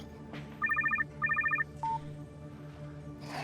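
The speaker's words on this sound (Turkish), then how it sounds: "Senden başka kimseden telefon beklemiyorum ama harika bir zamanda aradın" A phone sounds in a Turkish TV drama scene, two short bursts of rapid electronic trilling followed by a brief single beep, heard clearly over a low background hum with no speech.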